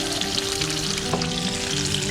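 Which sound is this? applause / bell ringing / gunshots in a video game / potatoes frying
potatoes frying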